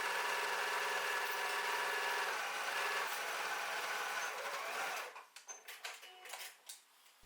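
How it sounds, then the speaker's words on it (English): A sewing machine running continuously as it stitches the top and bottom edges of a fabric pencil case, a steady mechanical whir that stops abruptly, followed by a few handling knocks. "Stitch all along the top and the bottom edges, only leaving the sides open and leaving the gap in the middle bottom of the lining."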